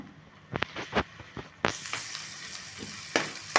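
Tomato frying with turmeric powder in a pan for halsandi kalu palya, a soft sizzle broken by several sharp stirring scrapes and pops, heard up close with no talk.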